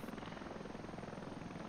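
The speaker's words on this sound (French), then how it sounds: "c'est un hélico d'attaque avec une portée de vue de light" Attack helicopter in the video game Heliborne, a steady loud rotor thump with engine whine filling the whole short stretch, no voices over it.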